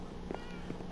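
Short cat meows from the Minecraft video game, two brief calls around a steady low hum of game ambience, moderately quiet.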